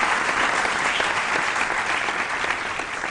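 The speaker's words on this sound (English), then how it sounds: "I think they deserve another round of applause for how far they've come." Audience at a school quiz competition applauding the contestants, a loud, continuous roar of many hands clapping at once, steady throughout with no speech.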